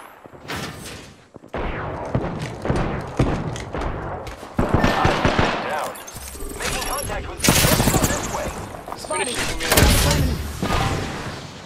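Apex Legends gunfire comes in uneven bursts of shots and heavy thuds. The reports are mid-loud and cluttered, with gaps between volleys and some game sounds mixed in.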